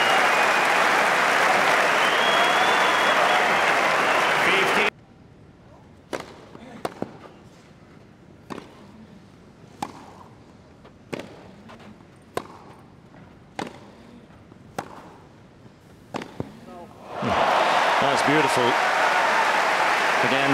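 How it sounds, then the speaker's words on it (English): Loud crowd applause at a Wimbledon tennis match, then a quieter stretch of sharp ball strikes and squeaks trading back and forth, before the applause swells up again. "it might as well be an applause for Federer"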